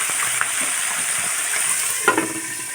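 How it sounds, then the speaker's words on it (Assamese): Small fish frying in a pan at home, with a steady close sizzle and crackle running the whole time and a brief louder burst of spattering near the end. "এইফালে মায়ে বনাব লৈছে সৰু মাছ ফ্ৰাই"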